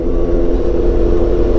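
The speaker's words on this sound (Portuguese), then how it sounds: "aqui com a BMW S1000 XR" BMW S1000 XR motorcycle engine running, a loud, close, steady drone with a strong low rumble and a constant mid hum and no talking, with the engine held even rather than revving.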